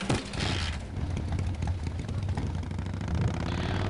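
Steady low motorcycle engine idle rumbles from the biker adventure game Full Throttle, a continuous close drone holding level through the whole stretch with no talk over it.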